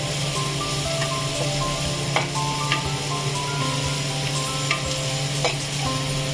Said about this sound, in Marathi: आणि आता आपण त्यात कांदा टाकू। कांदा चांगला लालसर परतून घेऊ।